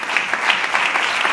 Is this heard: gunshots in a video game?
no